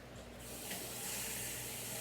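Tap water runs steadily into a pot, filling with water for a home-cooked family dinner; a continuous close hiss and splash swells slightly after the first half second and holds at an even level.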